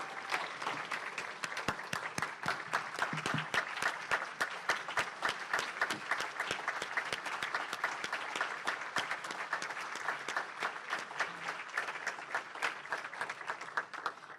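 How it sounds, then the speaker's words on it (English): A group meeting gives a steady round of applause, with many hands clapping in a dense, even patter. It carries on for about fourteen seconds at a moderate, somewhat distant level. "Let's give him another round of applause for his outstanding service to our group."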